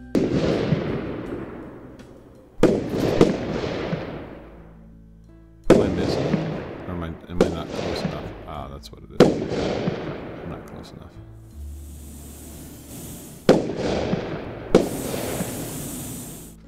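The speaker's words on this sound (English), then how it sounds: "It's got some good fireworks going on over there." Fireworks in the Roblox game Lumber Tycoon 2, with repeated sharp bangs each followed by a long crackling fall-off, going off at irregular intervals and fairly loud, with a faint hiss between some blasts.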